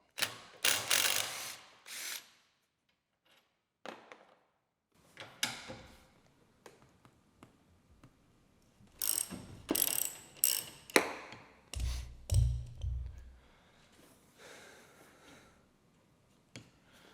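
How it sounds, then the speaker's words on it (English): A ratchet wrench loosening bolts on a Polaris RZR, short bursts of rapid clicking up close, separated by quiet gaps, with clunks of metal parts being handled in between. "we're gonna pull out these first 2 bolts."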